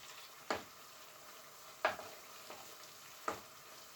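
Beef browning for stew sizzles steadily in a pan, a soft continuous hiss broken by four sharp stirring scrapes spaced about a second and a half apart, close and quiet with no talking.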